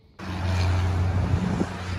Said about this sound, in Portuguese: O caminhão passou aqui.